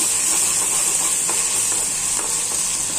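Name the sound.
onion frying with ginger and garlic added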